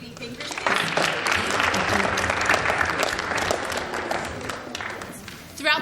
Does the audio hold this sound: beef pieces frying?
no